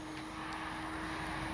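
A Durafly Excalibur V2 RC airplane rolls in flight, its electric motor and propeller giving a steady, fairly loud drone with a sustained whine throughout, no voices.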